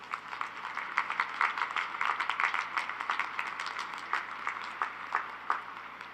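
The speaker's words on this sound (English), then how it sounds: "Please give Ms. Olguin another round of applause to thank her." Scattered clapping from an audience at a university spring commencement ceremony, a modest round of applause with uneven rhythm, steady and moderately near, no talking over it.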